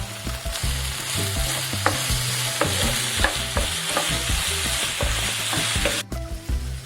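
Veg Schezwan fried rice, vegetables and sauces, stirred and fried on high flame in a pan, a constant loud sizzle broken by repeated scraping clatters of the spatula against the metal, ending on a sharp clank.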